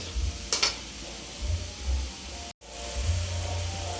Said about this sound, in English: Now I'm gonna add the meat.